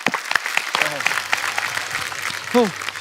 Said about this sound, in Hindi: उसके लिए जोरदार तालियां बनती हैं।